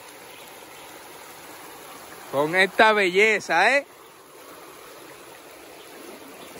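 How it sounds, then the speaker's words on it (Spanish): A river flows steadily through the Cantabrian countryside, its constant broadband rush continuing throughout while someone speaks briefly over it partway through. "Vamos a cruzar el río, señor, a ver si encontramos una pocita"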